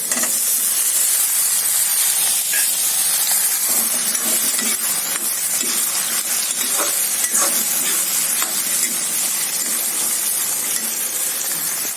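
Chopped tomatoes dropped into hot oil with ginger-garlic paste and onions, giving a loud, dense, unbroken sizzle with light stirring clicks throughout, close up and without speech.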